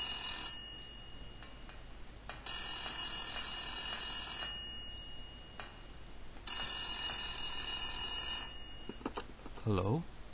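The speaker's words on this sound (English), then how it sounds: "The phone rings, by the way. When you try to leave the room." Telephone ringing in the Silent Hill video game, two long electronic bell trills spaced apart over a quiet ambient background, followed by a brief voice.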